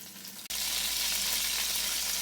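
Italian sausages brown in a frying pan, a brief quiet moment giving way to a loud, steady hiss of sizzling fat that fills the rest, close and unbroken.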